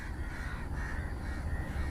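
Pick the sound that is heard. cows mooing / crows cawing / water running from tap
crows cawing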